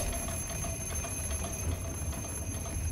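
Alarm clock ringing in the horror video game Resident Evil 7, a continuous shrill metallic bell ring holding steady throughout, loud and without speech.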